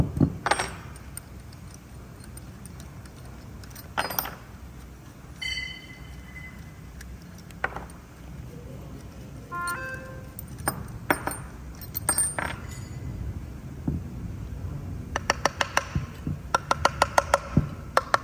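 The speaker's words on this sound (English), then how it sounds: "let's get the compressor housing off" Metal parts clink and tap sparsely while a compressor housing comes off a rally-spec turbo with severe dust damage, with scattered sharp knocks and a cluster of ringing clinks near the end, no voices.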